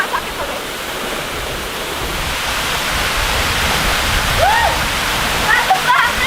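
The Jagasatru waterfall in Bali roars as a constant, broad rush of falling water that builds slightly over time, while a few short vocal sounds break through near the end.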